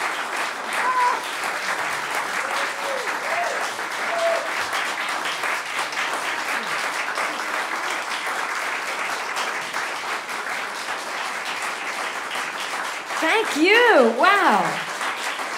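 An audience at a cabaret-style vocal performance breaks into sustained applause, a dense wash of clapping throughout, with a singer's held sung notes briefly over it near the end.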